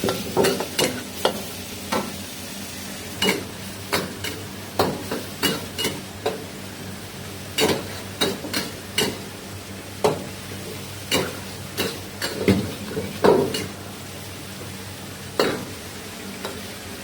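Vegetables stir-fry with salt, sugar, white pepper, soy sauce and Maggi sauce for noodles, the spatula clacking against the pan in quick, irregular strokes over a steady low sizzle.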